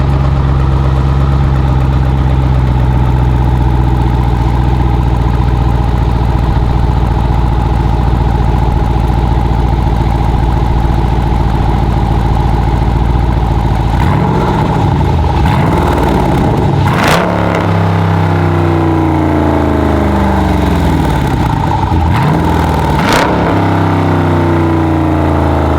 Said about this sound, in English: Let me start it up for y'all boys. I'm about to rev it a little bit.